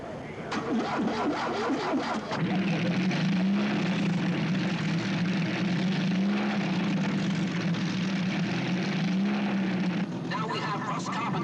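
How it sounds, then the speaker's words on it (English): A British-engined 1980s drag racing dragster roars down the strip, its loud, steady engine drone wavering in pitch over about ten seconds before it drops back to a rougher idle. "This is the quickest British engine dragster in the world"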